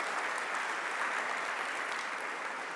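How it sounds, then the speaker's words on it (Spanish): Sustained applause from a church congregation, a steady, even wash of many hands clapping at moderate volume from start to finish with no speech over it. "Dele un aplauso al Señor."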